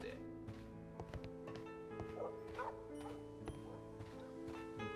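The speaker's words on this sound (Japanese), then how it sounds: "めっちゃ犬吠えてるけど。" Dog barking repeatedly in the video game Sherlock Holmes: Crimes & Punishments, a string of short yips and barks over steady background music and ticking, with a voice talking over parts of it.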